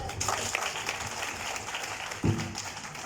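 Applause at a WLP DYFA Cup 2021 match, a steady wash of clapping from a small crowd, moderately loud, with a brief thump near the end.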